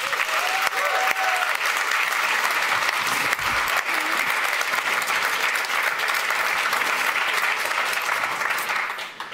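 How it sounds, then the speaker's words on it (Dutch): Warm, dense audience applause for Reinier van Danzig at an Amsterdam municipal election debate, steady and sustained, tapering off at the end. "Geef een warm applaus, Reinier van Danzig."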